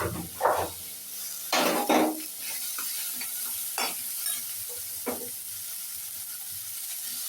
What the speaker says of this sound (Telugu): మనము చింతపండు అన్నీ వేసాక బాగా వేగాలండి